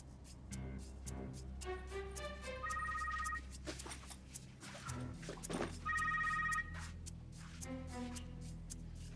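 Telephone ringing on an outgoing call, repeated electronic ring bursts sounding twice in a row, loud and close over background music.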